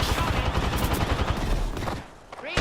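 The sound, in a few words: gunfire shooting through a wall in a video game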